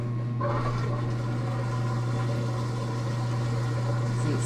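A new Speed Queen TC5 top-load washer spins its tub, giving a steady, even motor hum and whir close by that holds for the whole stretch with no talk.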